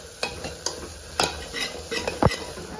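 A spoon stirs a masala of coconut, cumin, coriander and garlic frying in hot oil, with a steady sizzle and several sharp scraping strokes against the pan.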